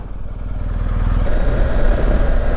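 A BMW R1250GS motorcycle pulling away, its boxer engine close and loud, with a throbbing idle that rises into a stronger, rougher rumble as the bike accelerates.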